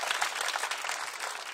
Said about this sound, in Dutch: voor allen wil ik graag een warm applaus